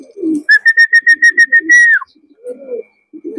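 Checkered racing pigeons returning to the loft after a 160 km club training toss from Calauag, Quezon, with one clear bird's whistling call in a rapid pulsing series around low scuffling and movement.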